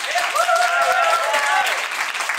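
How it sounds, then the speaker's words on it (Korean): Audience applause at a dance battle quarterfinal, a dense steady wash of clapping from a crowd, close and loud throughout, with a few faint tonal voices or shouts riding over it. "두 분에서 다시 한번 큰 박수 부탁드릴게요"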